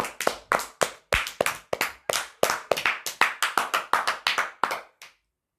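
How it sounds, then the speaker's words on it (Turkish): A single person claps about twenty sharp, evenly spaced times in quick succession, close and distinct, then stops, marking a cousin reaching 14,000 trophies in Brawl Stars. "Alkışlar."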